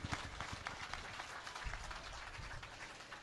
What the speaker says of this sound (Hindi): प्लीज इन सब के लिए जोरदार तालियां बजाइए